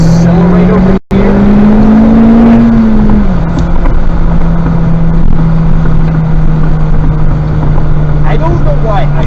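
A Honda Civic Type R accelerates on a race track, its engine a loud, sustained in-car drone whose pitch rises then levels off, with a brief dropout early and wind and road noise throughout.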